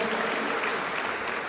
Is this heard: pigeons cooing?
no